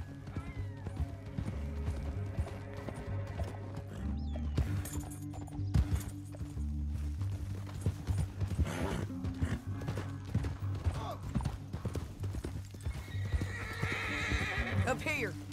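A horse in a western video game gallops with rapid clip-clop hoofbeats and lets out whinnying neighs, steady and close throughout over a low background hum.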